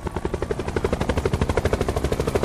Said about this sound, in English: I'm gonna jump inside the helicopter with my Switch.